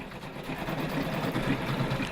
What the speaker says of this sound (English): the rattle of the sewing machine is constant